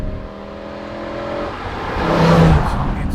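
A BMW E60 M5 with a manual gearbox accelerates, its engine note rising from a steady hum to a louder revving whir, heard from inside the car with no talk.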